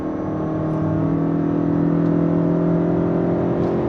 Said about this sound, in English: Coming to a complete stop and slam on the gas